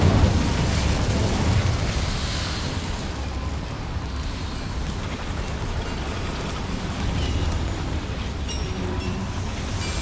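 In the Hogwarts Legacy video game, the Incendio fire spell is cast inside a mine, releasing a loud, sustained roaring whoosh of flame with crackling bursts that rumbles on steadily throughout.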